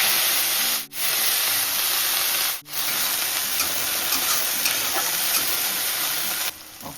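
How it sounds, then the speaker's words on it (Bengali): Spring onion leaves stirred in hot oil for a Bengali fish curry, giving a steady, close sizzle with scraping stirs, broken by two brief moments of near silence. "ওখানে আমি পেঁয়াজ পাতা দিয়ে তেলে চালছি"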